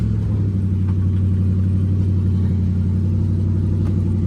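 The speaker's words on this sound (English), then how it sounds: "clutch down, into first, handbrake off, and we're off" A Ford Focus project car with a twin-turbo V8 idles with a steady low rumble, then pulls away with a gentle rise in revs, continuous and close, its brakes sticking on.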